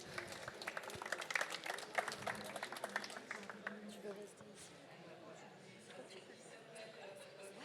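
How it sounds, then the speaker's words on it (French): An audience at a start-up pitch session claps together, the dense applause strongest for the first few seconds and fading into murmured crowd chatter, with people talking over it. "On peut l'applaudir,"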